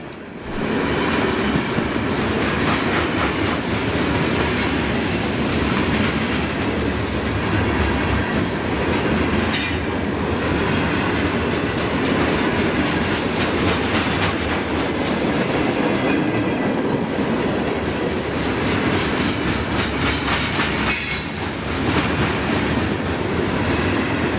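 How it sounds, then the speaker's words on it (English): A long southbound Bessemer & Lake Erie ore train rolls steadily past at Mill Street in Fredonia, Pennsylvania, loud and close, with continuous rumbling wheels, rhythmic clacking over rail joints and occasional faint squeals. "we now see the southbound ore train in Fredonia, PA at Mill Street"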